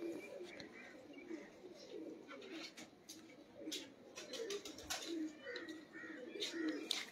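Pigeons coo softly and repeatedly at close range in a loft, with scattered chirps and faint movement sounds in an otherwise quiet space.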